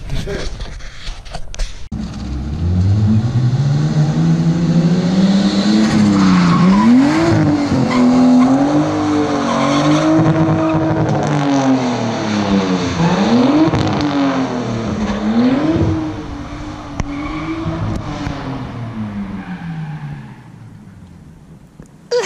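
A car engine running on open headers revs hard and repeatedly, loud and close, its raw tone rising and falling through long throttle pulls with a brief high tire-squeal character, voices faintly present beneath.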